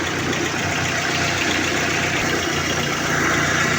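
A faulty car radiator fan motor whirs continuously with a rattly, slightly rough hum, loud and close, with no talking.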